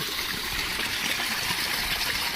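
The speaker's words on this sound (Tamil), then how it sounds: "நம்ம வாழைக்கு தண்ணி பாய்ஞ்சிக்கிட்டு இருக்கு" Steady rush of irrigation water flowing and gushing continuously into a banana field, close and fairly loud, with no voices.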